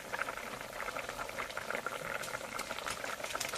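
A pot of Bengali fish curry with prawns and garden greens bubbles and sputters steadily at a rolling boil, with a dense, continuous crackle of popping bubbles close by.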